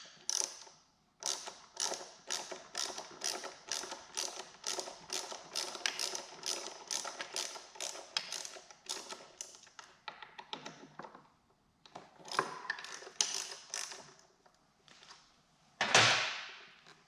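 Rapid metallic clicking from a ratchet or Allen tool backing out two 5 mm Allen bolts on a GPZ Turbo motorcycle fork junction block, steady close taps in runs with short pauses, then a louder clunk near the end.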